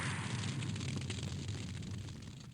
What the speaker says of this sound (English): we eventually get blasted by Incinerate